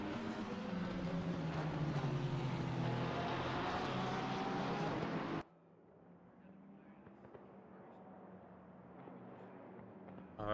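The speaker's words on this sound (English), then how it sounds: "Hear the engines roar." Race car engines in a racing video game roar loudly in a dense, layered drone with rising pitch sweeps, then cut off abruptly to a faint, quieter engine hum.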